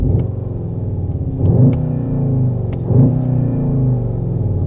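A 2021 Skoda Octavia RS engine in sport mode idles with a deep rumble, then revs up twice in quick surges before settling back, loud and close.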